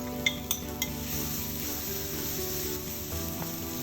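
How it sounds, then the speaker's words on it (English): Seedless tomatoes dropped into a pan of sautéing paneer bhurji, with a few sharp utensil clinks at the start over a low, steady sizzle, quiet and close, no voices. "And now then time to add seedless tomatoes."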